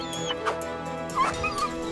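Dogs bark and whimper in short yips, with two brief bursts heard over steady background music in an animated pet-house challenge.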